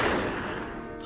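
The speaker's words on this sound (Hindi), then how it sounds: "गोली चल रही है" Gunfire rings out in a dubbed action film, a loud dense burst of shots blurring into one rolling volley over roughly a second.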